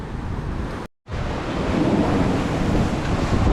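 Rough sea waves roll in at a beach in Samar, a loud, steady roar of surf with heavy wind buffeting the microphone and a brief dropout near the start.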